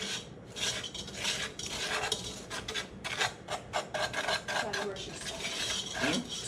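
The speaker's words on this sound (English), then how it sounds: "you wanna whisk these ingredients together a little bit just to get them combined" A whisk scrapes and rasps briskly against the bottom of a pot on the stove while chocolate pudding ingredients are combined, a rapid, uneven scratching that stays close and fairly quiet.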